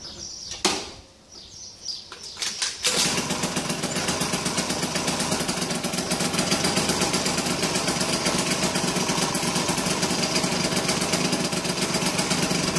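A 70cc Zip SP scooter engine sputters and kicks a few times, then starts and runs with a steady, buzzing high-pitched idle close by.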